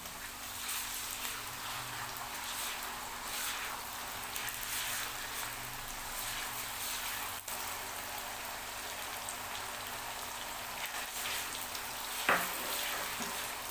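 Steady sizzling of garlic-ginger paste frying with onions in a pan, a continuous crackling hiss with an occasional clink of a utensil, no voices.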